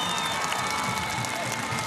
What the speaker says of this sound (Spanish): Vamos a darle un aplauso a Cilia, primera combatiente.